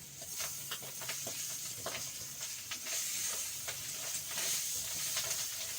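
Bacon frying in a pan, a steady close sizzle with crackling spits and pops running throughout and no talk.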